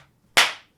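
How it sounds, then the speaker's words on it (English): A single sharp hand clap rings out close and loud in an otherwise quiet room, decaying quickly with no voices. "let's clap twice"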